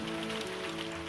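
Hail patters down as a short sound effect, a dense rattling hiss of falling ice over sustained musical tones, no voices present.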